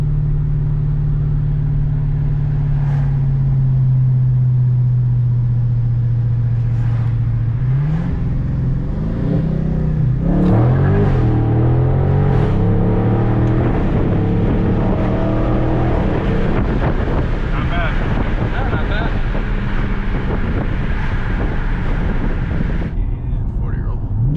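Modified Dodge Charger or Challenger muscle car with a new diff brace pulling hard from a 20 mph roll, a steady engine drone climbing into a loud rising roar through several gear changes, close and overwhelming, then cutting off.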